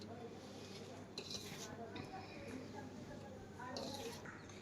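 Avakaya mango pickle being mixed by hand with spices and oil in a vessel, giving soft continuous squishing and stirring with occasional clinks of the pot, close and steady.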